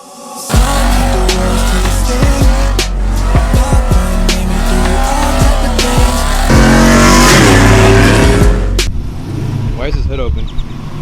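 A Chevrolet SS clone running on Flowmaster-style intros does a huge burnout, its engine revving hard under a loud, sustained tire squeal close by, with voices talking over the roar.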